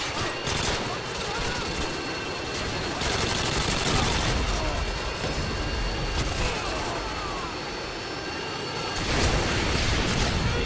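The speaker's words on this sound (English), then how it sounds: "You shoot down that Harrier for me." Dense, continuous automatic gunfire and bursts of shooting as a Harrier jet is targeted in a video game, with booming impacts mixed in, sustained and loud throughout.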